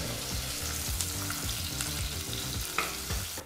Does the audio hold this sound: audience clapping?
no